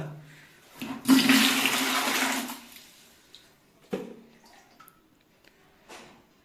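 Water drains from a planted aquarium tank in a loud gushing rush lasting a second or two, then fades to a few small splashes and drips.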